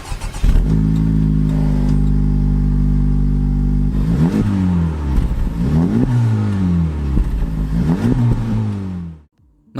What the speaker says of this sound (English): The new Type R has 3 center exhaust outlets